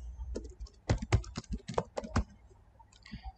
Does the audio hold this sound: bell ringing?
no